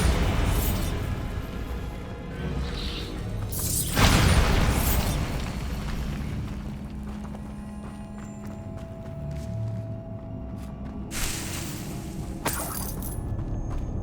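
A Bombarda explosion spell cast in Hogwarts Legacy, a loud booming burst near the four-second mark with a rumbling tail, followed later by further bursts amid game ambience and occasional rhythmic clopping.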